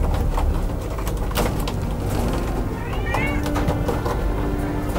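A cat meows at a cat adoption centre, a short wavering cry partway through, set against a busy room background with faint voices and other small noises.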